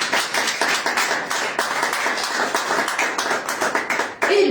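A church congregation claps together in a fast, dense, continuous burst of hand claps during a Spanish-language worship service, loud and close, fading slightly at the end.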